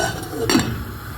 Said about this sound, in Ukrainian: Закриваємо кришечкою.